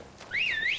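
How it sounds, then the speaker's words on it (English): Horse whistle in the Skyrim video game, a single bright rising-and-falling whistle call lasting about half a second, loud and clear after a brief quiet moment. "Horse whistle."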